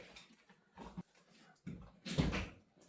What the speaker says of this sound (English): who can open the door?